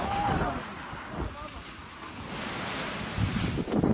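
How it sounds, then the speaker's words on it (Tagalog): Super Typhoon waves surging onto a resort shore in Dipaculao, Aurora, a continuous loud roar of surf churned with strong wind buffeting the microphone. "Umabot sa resort na ito sa Dipakulaw, Aurora ang mga alon habang nananalasa ang Super Typhoon Pepito."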